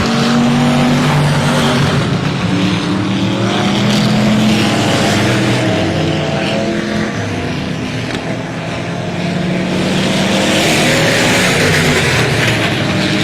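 Dwarf race cars roar continuously around the Texana Raceway Park dirt oval, engines loud and dense with a slight dip and swell as the pack passes, no voices over it.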